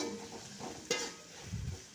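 Onions and tomatoes frying in a pan while being stirred, a faint close sizzle with soft scraping strokes and one brief clink against the pan.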